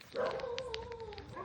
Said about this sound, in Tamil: இப்போ ஓடிட்டு இருக்கும்போது நாயை நம்மளை சுற்று போட்டுருச்சு